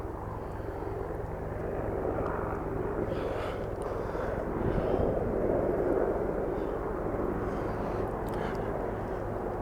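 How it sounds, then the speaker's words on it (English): A helicopter comes in very low over woodland at night, its broad engine and rotor roar building steadily and holding loud and close, with wind buffeting the microphone. "There's a helicopter coming in."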